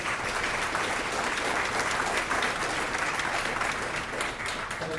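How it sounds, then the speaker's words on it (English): Steady applause from a crowd fills the whole stretch, dense and even with no pauses, with no speech over it. "I definitely want to give another round of applause to Senator Menendez."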